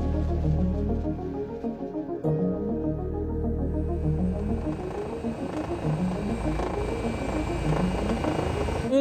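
A Rega HUG rescue helicopter flies during a cantonal medical brigade rescue training exercise near Geneva, its rotor and turbine giving a loud, steady, pulsing drone that lasts throughout.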